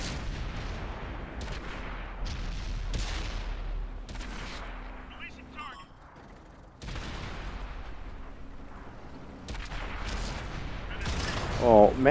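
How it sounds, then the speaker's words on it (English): Artillery shells and gunfire boom repeatedly in the tank combat game World of Tanks, with heavy blasts and rumbling impacts over a steady battlefield din, mixed with talking. "that artillery is the only one that's really working me here"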